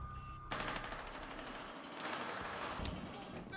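Rapid automatic gunfire with heavy recoil in the Rainbow Six Siege video game, sustained loud bursts of close shots crackling in quick succession, with voices over the top.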